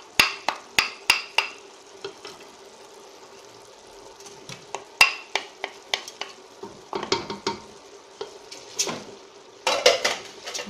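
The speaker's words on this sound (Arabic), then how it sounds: "نخلطو هادشي كامل" A spoon stirs rice and vegetables together in a pot, with sharp metallic scrapes and clinks in irregular bursts over a soft sizzle, close and fairly loud.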